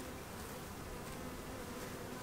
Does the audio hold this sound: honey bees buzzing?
yes